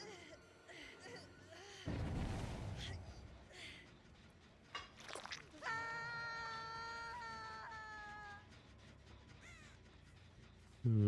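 A crow caws several times in Dead by Daylight on the Borgo map, with a short rustling burst as it takes flight. The calls ring out clearly over a muffled game background, and a voice is heard briefly.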